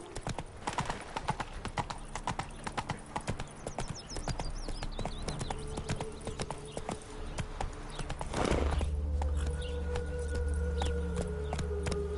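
Geralt's horse Roach trotting in The Witcher 3 on PS5, rhythmic hoof clip-clops at a steady gait with a brief whinny, then the hooves slow and stop under ambient game music.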